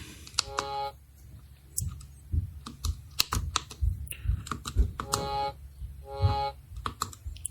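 Crisp plastic button clicks tapped in an uneven rhythm on a Pocket Operator PO-33 K.O while a beat is sequenced, with short bursts of sampled tones and low thumps playing between the presses, close and moderately loud.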